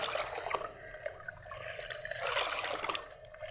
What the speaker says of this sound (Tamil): பாருங்கள் இந்த அளவுக்கு தண்ணியில் கலந்துட்டேன் இதை